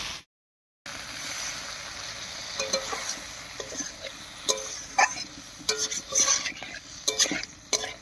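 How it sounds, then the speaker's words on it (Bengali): Ground spice paste, thinned with a little water, fries and gets stirred in a pan for a bean dish, with quiet sizzling and repeated sharp spoon scrapes and clinks that grow busier toward the end. "এবারে মশলা বাটা জল দিয়ে খুব ভালো করে কষিয়ে নেব।"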